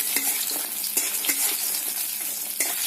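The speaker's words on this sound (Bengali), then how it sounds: "বড়িগুলোকে আধা ভাঙা করে নিয়েছি এগুলোকে আমি ভেজে তুলে নেব" Halved lentil dumplings (bori) fry in oil, a close, steady sizzle punctuated by a few sharp spatula scrapes and clinks against the pan.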